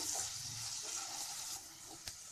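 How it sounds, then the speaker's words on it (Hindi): Cumin with ginger, garlic and green chili paste fries gently over a low flame for a gulab jamun curry. A soft, steady hiss of sizzling is broken by one brief clink near the end. "इसे हम एक मिनट तक भूनेंगे ये हमें लो फ्लेम पर भूनना है"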